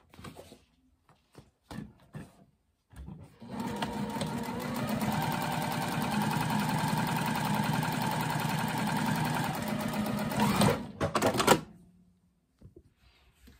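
A sewing machine runs steadily for about seven seconds, stitching a strip on a handmade laptop sleeve, its motor hum loud and even before stopping, with a few handling clicks before and after.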